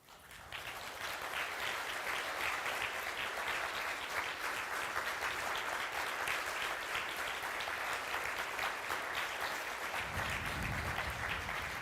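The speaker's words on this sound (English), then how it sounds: "Could you stand up for a round of applause?" Sustained applause from a conference audience at the Ubuntu Summit 2022, a dense, steady wash of many hands clapping for about eleven seconds at an even level.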